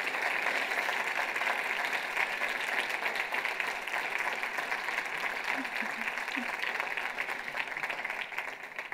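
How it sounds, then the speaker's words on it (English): A conference keynote audience applauding the organization's volunteer board of farmers, a steady wash of many hands clapping that carries on for the full stretch at a moderate distance. "It's the clapping time."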